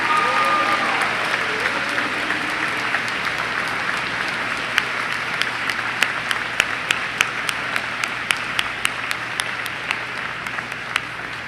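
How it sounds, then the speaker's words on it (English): An audience at a school academic awards assembly applauds students, a steady, dense wash of clapping from many hands that holds for the full stretch and thins slightly toward the end, with no talking over it. "Please give these students a big round of applause."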